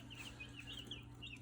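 Soft, high chirping and peeping from three-day-old meat chicks in a brooder, several overlapping calls repeating steadily over a low, constant hum.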